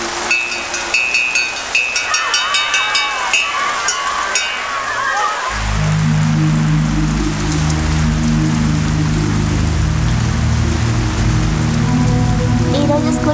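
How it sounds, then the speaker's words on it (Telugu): Heavy rain in a dubbed Telugu film scene, a steady hiss of rain on surfaces under a swelling music score, with no speech over it. "చెప్పాను కదా వర్షం బాగా పడుతుంది."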